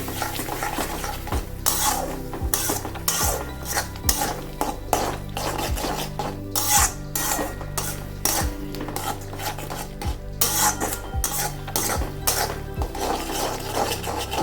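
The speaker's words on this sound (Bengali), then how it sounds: "এর মধ্যে এবারে কাঁচা লঙ্কাগুলো দিয়ে দিলাম, কাঁচা লঙ্কা দিলাম আর সামান্য একটু জল দিলাম।" Spatula stirring green chillies and spices in a pan for Bengali prawn curry, with a splash of water added over low flame; rhythmic metal scrapes and clinks against the pan over a soft sizzle, close and steady.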